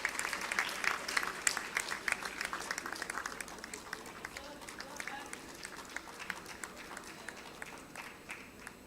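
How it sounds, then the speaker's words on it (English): A crowd at a medical college convocation gives a round of applause for an award winner, sharp clapping strongest at first and then thinning out while a voice speaks over it. "A big round of applause."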